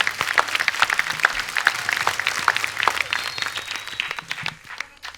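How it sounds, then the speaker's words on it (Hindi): Studio audience applause on a Hindi television comedy show, a loud burst of many hands clapping that thins out toward the end, with no talk over it. "जोरदार तालियां।"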